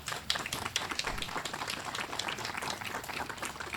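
Crowd applause at an outdoor tree dedication in a Columbus park, steady moderate clapping from a small gathering, somewhat distant and continuous throughout.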